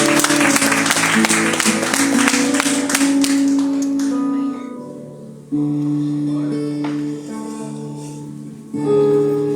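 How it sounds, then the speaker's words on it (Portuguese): A church congregation applauding, dense clapping from a crowd over sustained music tones, then the clapping fades away, leaving held organ-like chords that swell again near the end. "Em nome de Jesus, aplauda ao Senhor"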